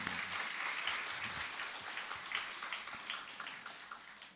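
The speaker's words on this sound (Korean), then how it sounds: "우리 하나님께 감사와 영광의 박수 올렸으면 좋겠습니다" Congregation applauding in a church after a choir performance at a pastor installation service: a dense, steady wash of many hands clapping, sustained throughout and gradually easing toward the end.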